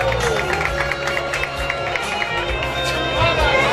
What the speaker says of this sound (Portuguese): Aplausos pra Babalu!